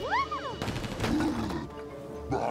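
A sharp gunshot in Mario + Rabbids Kingdom Battle bursts out, followed by a rumbling crash and lingering noise, with a brief rising whistle-like tone beforehand.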